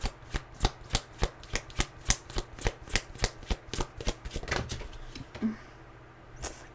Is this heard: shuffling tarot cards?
yes